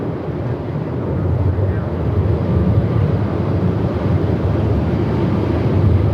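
Strong wind gusting around 49 knots at Melbourne Airport, a steady loud broadband roar with buffeting on the microphone that continues throughout without letting up.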